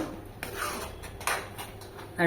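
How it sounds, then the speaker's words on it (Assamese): A spoon scrapes and stirs a thick carrot barfi mixture in a kadai, with a few distinct scraping strokes close by against a light background hiss. "এনেদৰে লৰাই থাকিব লাগিব যাতে লাগি নধৰে তলত"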